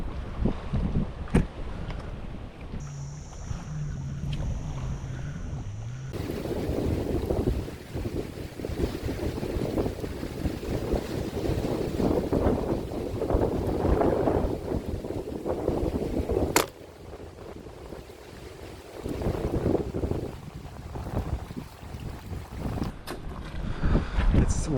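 Strong wind buffets the microphone at a fishing point by the water, roaring and gusting continuously with breaking waves underneath, a loud sustained rush with a brief drop partway through.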